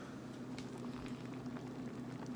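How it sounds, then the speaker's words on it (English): Water boiling in a pot while cooking rice bubbles and patters softly and continuously, heard close up at low volume with no talking. "that was just a bunch of boiling water that went and fogged up the screen right there"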